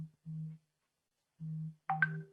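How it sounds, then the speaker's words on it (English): A laptop plays a notification chime: two short low tones, a pause, then a low tone joined by a brighter rising chirp, clean and fairly quiet, with no other sound between the beeps. "Do you guys hear the notification on my laptop as well?"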